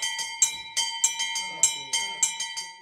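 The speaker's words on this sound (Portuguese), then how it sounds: "o repique Bom Jesus, usado nas festividades religiosas, tem um toque bem característico" Church bells of a Brazilian religious festival ring the Bom Jesus peal in a quick, regular repeating pattern, bright metallic strikes every half second or so over a steady sustained tone, with a voice faintly underneath.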